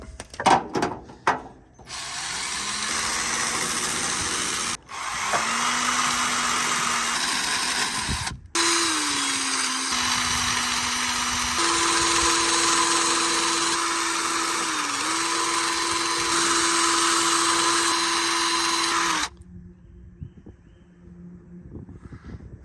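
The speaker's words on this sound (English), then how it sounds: "I got this wire wheel I already stabbed myself with, so I'm gonna clean it up with it." A wire wheel on a power tool spins up repeatedly, grinding and buzzing at rising pitch as it cleans a radiator part for a rusty squarebody Chevy truck, with brief pauses before a long final run that cuts off abruptly.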